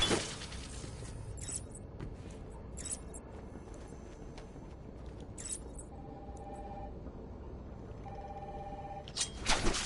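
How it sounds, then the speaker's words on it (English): In Batman: Arkham Asylum, a telephone rings with two short, electronic-sounding bursts separated by a pause, set against a quiet, muffled background with occasional clatters and thumps. "The phone's ringing."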